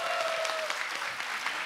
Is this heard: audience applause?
yes